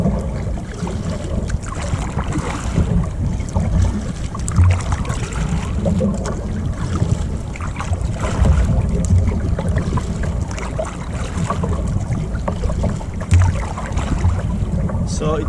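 A wide 36-inch Old Town Topwater 120 PDL kayak is paddled, with rhythmic water splashes and dripping strokes repeating under steady wind buffeting on the microphone.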